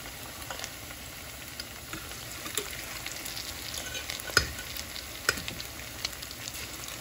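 Salmon patties fry in a pan on a stove set to medium, giving a steady soft sizzle with occasional sharper pops and stirring clicks, close and fairly quiet, with no talking.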